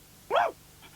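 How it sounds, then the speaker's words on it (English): A dog named Teetime gives a single short, sharp bark, fairly close and clear over a quiet background. "What's Teetime barking at now?"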